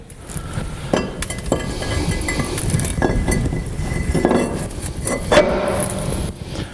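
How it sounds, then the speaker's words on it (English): Metal clinks and knocks as a brake disc is fitted back onto the hub of a 2003 Land Rover Discovery during a hub bearing job, with repeated sharp taps and scraping contacts of moderate loudness, close by. "now we're ready to fit the disc back onto the hub"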